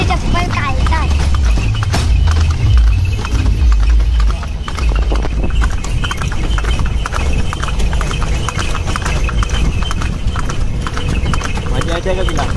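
A horse pulls a carriage on the way to the Titwala temple, and its hooves clip-clop steadily and close by under continuous nearby talk. The rumble of the ride runs throughout.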